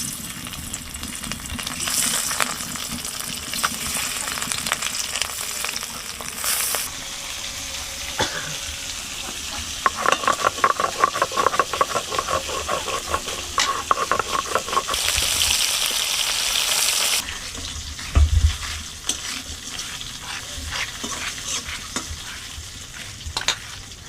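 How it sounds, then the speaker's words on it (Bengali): Tengra fish, rubbed with salt and turmeric, sizzle in hot oil in a village kitchen. The frying hiss runs steadily throughout, with bursts of spatter and stirring in the middle and a brief louder crackle near the end. "তেলটা গরম হয়ে গেছে, আমি এখন মাছগুলো দিয়ে দেব।"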